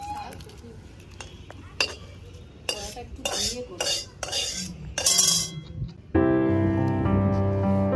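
Cooked shrimp and broccoli are tipped out of a metal pan in a home kitchen, with a series of sharp clinks, scrapes and clatters of cookware and utensils, then a louder sustained metallic ring at the end.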